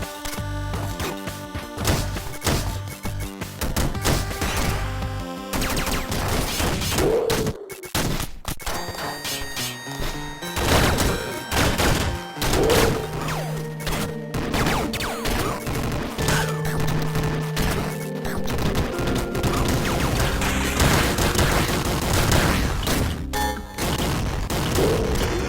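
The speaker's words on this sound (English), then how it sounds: "there's a gun attached to your boots, basically, and you just shoot downwards" In the video game Downwell, gun boots fire downward in rapid, repeated bursts of sharp shots, layered over steady electronic game music and tones that play throughout.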